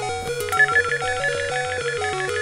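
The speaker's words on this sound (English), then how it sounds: "Another phone ring?" The phone in Pokemon Gold rings as a chiptune ringtone, a looping pattern of bright electronic beeps over a bouncing bass line. The beeps repeat steadily and clearly, with no talking.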